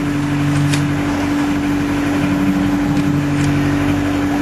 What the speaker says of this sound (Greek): Το μηχανάκι μας μας ανεβάζει το παραγάδι